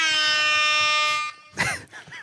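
A loud air horn gives one long, steady, blaring blast lasting over a second, then cuts off as voices talk and laugh nearby.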